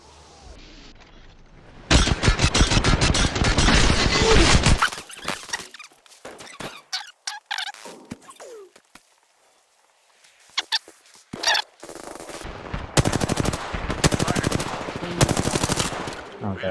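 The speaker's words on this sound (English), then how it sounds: "I miss my shots." Automatic gunfire from an Apex Legends match, with a loud sustained burst early on, scattered single shots and game effects in the middle, then another stretch of rapid fire near the end.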